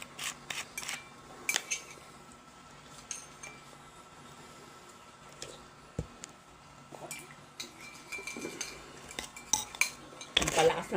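A spoon stirs soy sauce into champurado, a chocolate rice porridge, scraping and clinking against the pot or bowl in irregular close strokes, alone and without talk.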